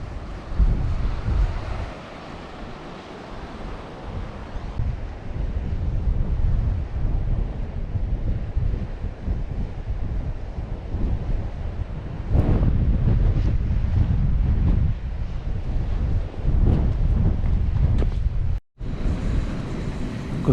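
Strong wind buffets the open coast of Hilbre Island, a continuous loud rumbling roar of gusts battering the microphone, rising and falling over the whole stretch with a brief dropout near the end and no talk.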